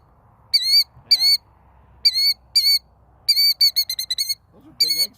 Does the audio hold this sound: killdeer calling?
yes